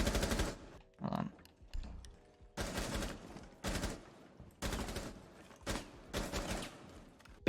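Automatic weapon fire in the video game Rainbow Six Siege comes in repeated sharp bursts of about a second each, separated by brief gaps with softer mechanical clicks.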